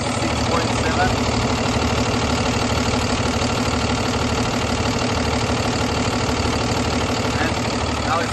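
A Cummins 6.7 diesel idles steadily in a 24-foot International refrigerated box truck, a loud, continuous low rumble that stays even throughout with no break.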